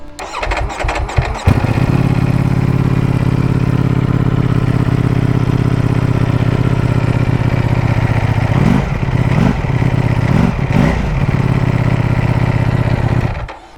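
A Ducati Panigale V4 motorcycle cranks briefly, catches and settles into a loud, deep, steady idle close by, with a few short throttle blips near the end before cutting off.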